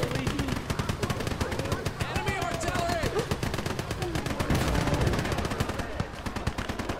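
Dense, continuous machine-gun and rifle fire mixed with artillery in a World War II battle on the Eastern Front in Gates of Hell: Ostfront. The rapid cracking barrage is loud and unbroken throughout.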